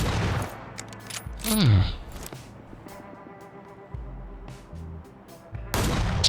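Gunfire in the video game PUBG Lite, with several sharp shots and booming reports scattered across the stretch, some loud and some more distant, and a player's brief vocal exclamation in between.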